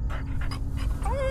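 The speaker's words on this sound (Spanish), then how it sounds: "¿A quién le ladras?" In the horror game Fears To Fathom, a dog pants and gives short whimpering vocal sounds close by, ending in a rising whine.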